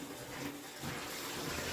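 Liquid is poured into a copper still during cleaning, a steady rushing splash of fluid that swells slightly partway through, close and continuous with no voices.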